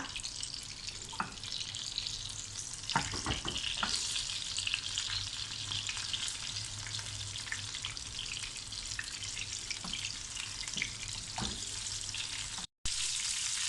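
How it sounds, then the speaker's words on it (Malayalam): Pieces of barracuda fish fry in a pan with a dense, steady sizzle and occasional scraping or clinking, close and continuous for a long stretch with no voices, cutting out briefly near the end. "ഒരു സൈഡ് ഒന്ന് മുറുകട്ടെ. ഇതൊന്ന് മറിച്ചിട്ട് കൊടുക്കുക."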